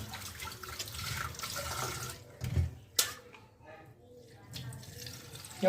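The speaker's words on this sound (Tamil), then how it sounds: "இது மாதிரி மூணு டு நாலு தடவை நல்லா தண்ணியில் அலசுங்க" Palak spinach leaves being swished and rinsed in water in a kitchen, with continuous close sloshing and splashing and a sharper splash midway, followed by quieter dripping water.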